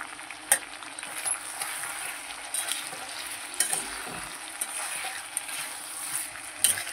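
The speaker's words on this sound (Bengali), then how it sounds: "চলো একটুখানি আর একটু সামান্য কষে নিই" Chicken curry masala with tomato, cooked in a home-style Bengali red gravy with potatoes, sizzles steadily in the pot while being stirred, with scattered scraping clicks of the spoon throughout.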